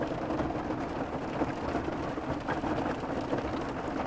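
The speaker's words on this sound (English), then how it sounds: "There it is, hail's coming back." Small hail falling on a van, heard from inside the vehicle: a steady, dense wash of patter with no separate distinct hits, constant and fairly loud throughout.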